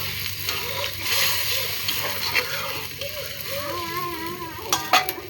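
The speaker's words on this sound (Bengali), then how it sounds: "এখন সোয়াবিনগুলো ভালো করে ফুটবে আর একটু" Soybean curry simmers in a pan with a steady, close sizzling bubble and a few soft utensil clicks, while a voice murmurs briefly in the background.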